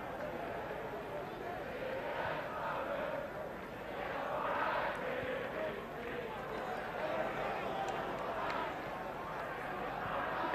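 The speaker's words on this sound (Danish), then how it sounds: "Jeg kan tydeligt høre de danske tilskuere." Danish supporters, around four thousand strong, cheer in a football stadium during a 1985 World Cup qualifier against Ireland; a broad, steady crowd roar fills the clip from start to finish, swelling slightly midway.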